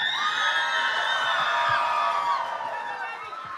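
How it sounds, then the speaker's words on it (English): Guests at a quinceañera celebration cheer and whoop together in a loud, sustained crowd roar with high shouts, gradually fading slightly toward the end. "One more time, make some noise for Ali."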